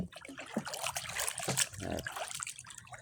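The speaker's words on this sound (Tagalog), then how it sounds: "Ito yung dadaanan namin" A river flowing steadily close by, a continuous rushing trickle with small splashes throughout.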